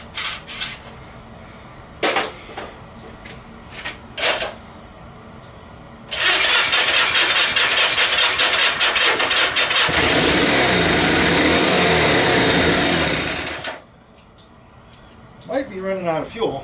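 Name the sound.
Honda Benly motorcycle engine trying to start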